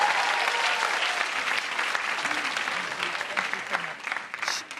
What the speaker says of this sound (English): you've got to give a louder welcome applause